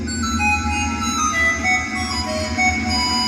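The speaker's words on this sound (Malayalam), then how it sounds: "അതോടൊപ്പം കോളും വന്നു" An incoming-call phone ringtone plays a steady electronic melody of repeating tones for about three seconds, fairly loud over a low rumbling background, with no talking.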